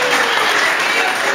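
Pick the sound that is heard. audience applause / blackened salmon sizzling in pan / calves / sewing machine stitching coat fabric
audience applause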